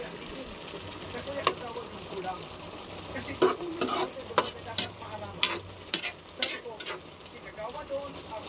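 Siling labuyo chili peppers hit a pan that sizzles steadily, while a utensil stirs and scrapes in a series of distinct strokes and a voice talks faintly underneath.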